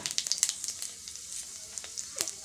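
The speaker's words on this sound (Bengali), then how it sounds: "এবার আমি অল্প পাঁচফোড়ন আর ছোট্ট একটা শুকনো লঙ্কা ছোটো করে কেটে দিয়েছি" Panch phoron and a small chopped dried red chilli sizzling in hot oil for Bengali singara filling, a close crackling spatter with sharp pops, no voices.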